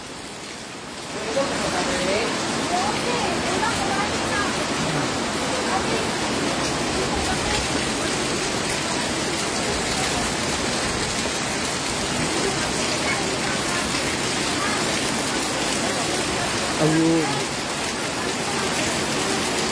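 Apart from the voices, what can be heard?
rain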